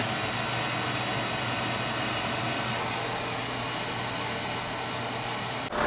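An oil furnace burner with a small nozzle fires with a good draft, giving a steady, even roar that runs unbroken at close range.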